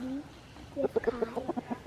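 A hen clucks in a rapid run of short, close, fairly soft clucks on a farm, following a brief lower vocal note.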